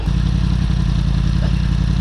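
Yamaha R1 sport motorcycle engine running steadily nearby in street traffic, a loud continuous low rumble with a faint rhythmic throb, no talk heard.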